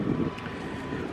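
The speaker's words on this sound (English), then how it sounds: "Very windy out here." Strong wind at Wrightsville Beach during a beach nourishment project, a faint steady rush of air over the microphone for a brief moment, with no voices.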